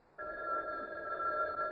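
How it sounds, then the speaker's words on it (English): A telephone rings with a steady, unbroken electronic bell tone that starts abruptly and carries on near and fairly loud, with no talking. "Phone. Where's the phone?"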